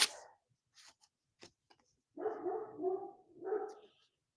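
Neighbourhood dogs barking at a distance, a few faint yips first, then a run of louder overlapping barks in bursts, with no talk over them.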